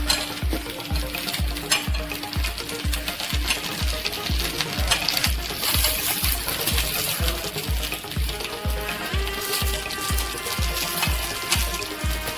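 Stuffed green chillies frying and being turned in a pan for a Maharashtrian recipe: a steady crackling sizzle with occasional clinks over a regular thumping beat.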